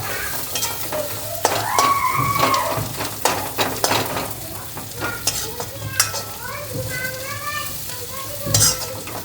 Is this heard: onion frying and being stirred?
yes